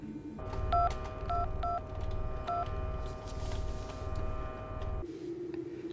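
Telephone keypad tones beep in a quick sequence while a number is dialed, steady dial-tone chords running under them over a low rumbling background.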